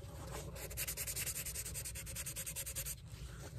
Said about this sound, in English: You can sand shell.